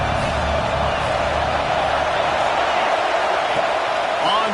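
Stadium crowd in the College Football 26 video game, a steady, dense roar that fills the whole stretch without letup, with no breaks or distinct cheers standing out.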